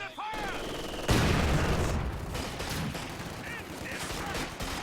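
Company of Heroes 2 battle sounds as fire is directed at a machine gun position: a sharp blast followed by continuous rumbling gunfire and explosions, loud and dense throughout.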